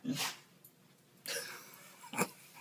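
A dog snorts and huffs nearby in a quiet room, with three short breathy bursts spread across the moment: a sharp one at the start, another midway, and a final sudden snort.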